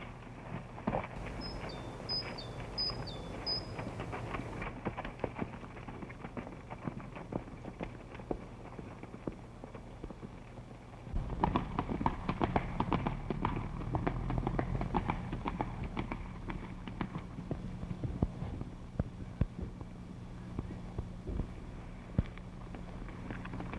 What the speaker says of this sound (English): Take my horse, Brooks.